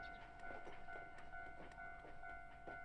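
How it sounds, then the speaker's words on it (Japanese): A train passing in the Crayon Shin-chan video game, a quiet rhythmic clickety-clack of wheels repeating about twice a second over a steady tonal hum. "すげえちゃんと電車来るんだ"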